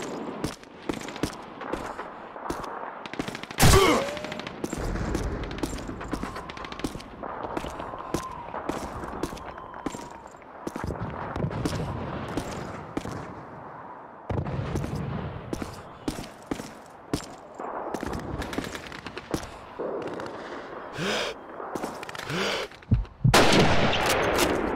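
Repeated sniper rifle shots and sustained gunfire in the World War II shooter Call of Duty 2, sharp cracks and rapid bursts layered over battle ambience and shouting voices, with a few especially loud close shots.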